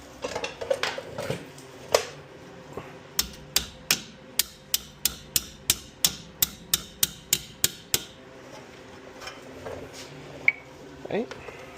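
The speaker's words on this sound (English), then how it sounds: "Use the big hammer to get that loose." A heavy hammer strikes metal repeatedly while loosening rear brake parts on a 2010 Audi A4, about a dozen loud clanging blows in a steady rhythm, with some clinking and handling noise before and after.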